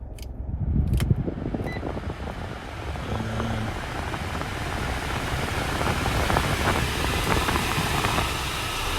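Air conditioning blowing inside a 2014 Mitsubishi L200 2.5 DI-D pickup, a steady loud broadband rush of fan air filling the cabin, with a few faint clicks at the start.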